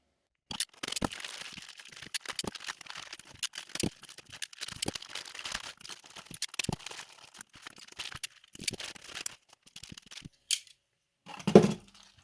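Parts of a Hyperlite Pyrocube 5-inch race drone frame are pulled from a bag, giving soft, close crinkling, rustling and small clicks and taps in irregular bursts, with a brief louder rattle near the end.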